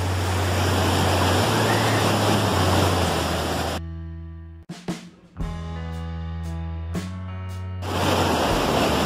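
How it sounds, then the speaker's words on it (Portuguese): Roaring waterfall at Salto do Rio Bonito in Juti, a loud, dense, continuous rush of falling water that cuts out briefly midway with some handling bumps, then returns at full force. "Consegui chegar no pé da cachoeira."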